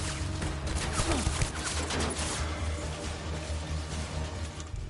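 Gunfire from shooting at enemies in Death Stranding, a rapid fusillade of shots in the first seconds over a steady rumbling game backdrop, fairly loud and close, with no talking.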